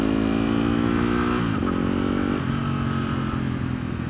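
A Yamaha WR250X supermoto motorcycle on the move, its single-cylinder engine droning loud and close with clear pitch drops as it shifts gears, riding steadily with no talk.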